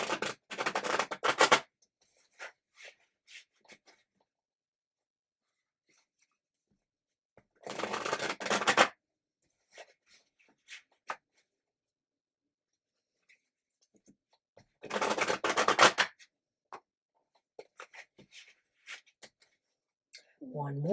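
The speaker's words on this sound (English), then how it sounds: "One more shuffle to go." Tarot cards are shuffled in three separate bursts of quick riffling and flapping, close and crisp, with quiet pauses and faint handling noises between them and no talking over the shuffles.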